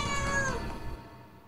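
A single short cat meow sounds close and clear, then fades out into near silence.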